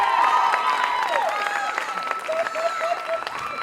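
An audience applauds after a celebrity dance-off performance, a dense, steady wash of clapping with scattered cheers, while a voice talks over it.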